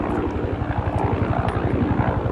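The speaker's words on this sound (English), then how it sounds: "Helicopter." A helicopter flies overhead, its rotor beating in a fast, steady, close chop that runs the whole time without talk.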